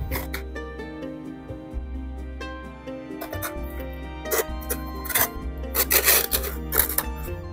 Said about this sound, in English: removing the tape backing here, sticking it